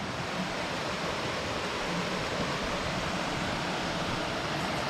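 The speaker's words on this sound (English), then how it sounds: "And there's the falls." A waterfall on a river, a steady, loud, broadband rushing roar of falling water that stays constant throughout with no voices.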